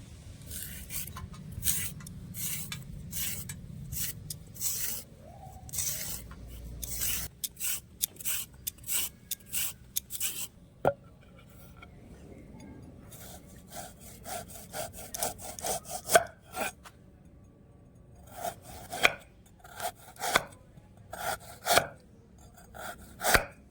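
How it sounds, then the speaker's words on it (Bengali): Carrots being peeled and thinly sliced by hand for a Bengali carrot recipe, heard as a long run of close, rhythmic scraping and cutting strokes, some sharp and knocking on a board, with no talking. "গাজরগুলোকে আমি ছাড়িয়ে পাতলা পাতলা করে কেটে নেবো"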